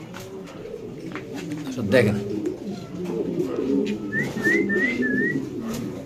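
Fancy pigeons on a farm coo in soft, throaty bursts, with whistling and fluttering mixed in, heard near under someone talking.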